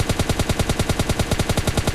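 A rapid, continuous burst of automatic gunfire in PUBG Lite, loud and rhythmic like a sprayed machine gun, with no voices.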